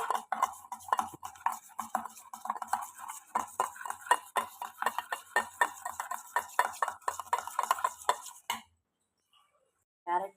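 Sandwich filling being mixed in a bowl with chilli flakes and oregano: a steady run of close scraping, tapping spoon strokes against the dish, stopping abruptly near the end with a brief final clink.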